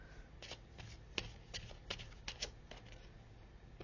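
A deck of tarot cards being shuffled by hand, a quiet run of soft riffling flicks and snaps in an irregular rhythm, close and alone with no voices.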